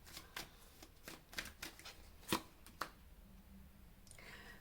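Tarot cards riffle and slap softly as they are shuffled and drawn by hand, a run of quiet, close papery flicks and taps with a sharper snap near the middle.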